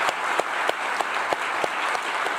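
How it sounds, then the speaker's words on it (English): An audience gives a round of applause to a group of explorers at a live festival event: steady, full clapping from a crowd with a few sharper individual claps standing out. "Let's have a round of applause for our explorers."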